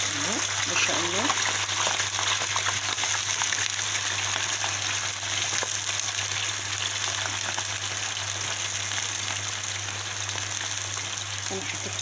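Potato fingers soaked in vinegar water sizzle in hot oil in a pan, a steady dense crackle that continues through the whole stretch with a low hum underneath.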